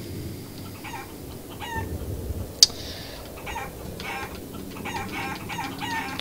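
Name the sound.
chicken form clucking in Guacamelee video game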